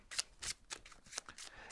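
Pandemic board game cards being shuffled by hand, close and soft, with repeated riffling bursts in an uneven rhythm and no speech.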